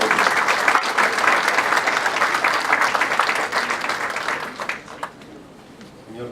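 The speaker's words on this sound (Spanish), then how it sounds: "Recibamos con fuertes aplausos al congresista." A conference audience gives strong applause for a congressman at an academic talk on hydrocarbon contracts, dense clapping that runs loud for several seconds before tapering off near the end.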